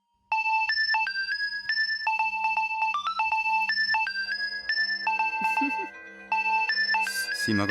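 A phone ringtone plays loud and close as a repeating electronic melody of bright beeping notes over a soft pulsing buzz, running almost without pause and briefly dropping out near the end.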